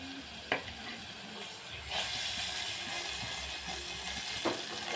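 Whole spices such as cinnamon, cloves and fennel fry in hot oil for a mutton curry, giving a steady close sizzle with a few sharp clicks of stirring.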